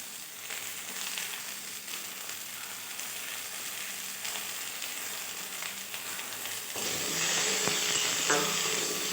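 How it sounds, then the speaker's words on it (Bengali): Spices sizzle in hot oil in a pan with turmeric added, a steady frying hiss with light stirring scrapes that swells louder near the end; no talking. "এইগুলোকে হালকা করে ভেজে নেবো।"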